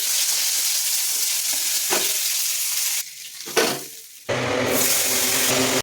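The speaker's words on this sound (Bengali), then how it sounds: "দেখুন সব মাছগুলো ভাজা হয়ে গেছে।" Fish frying in hot oil, a loud crackling sizzle that cuts out briefly, with a short rustle in the gap, then returns strongly as more food meets the oil.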